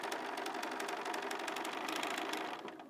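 A sewing machine stitching the toe side of a mini Christmas stocking runs in one continuous, rapid mechanical chatter close by for nearly three seconds, then eases off at the end.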